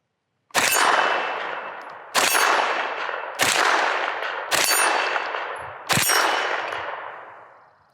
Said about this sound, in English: kind of gong downrange, one of those steel plates, AR500.